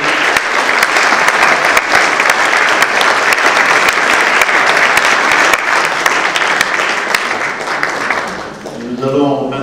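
Sustained audience applause fills a Senate meeting room, dense and steady clapping for the ambassadors that fades near the end as a voice begins speaking.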